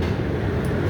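Steady loud rumbling roar of a New York City subway train running on the rails, heard from inside the car, continuous and low-pitched with no clear clacks or talk.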